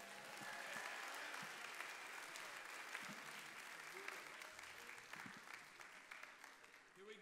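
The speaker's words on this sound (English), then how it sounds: "applause" A worship service congregation breaks into a long round of applause, a faint but sustained crowd clapping that swells and then thins toward the end, with cheers and voices mixed in.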